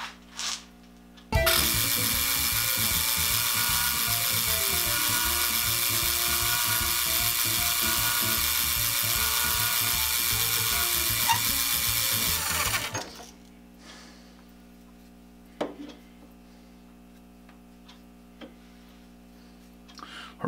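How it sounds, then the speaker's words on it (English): A metal lathe runs a finish cut along the full length of a shaft, a loud steady mechanical drone with rhythmic gear whine lasting about eleven seconds, then stopping abruptly into a quiet room with faint clicks. "So I'm just going to take a finish cut across the whole length of that shaft,"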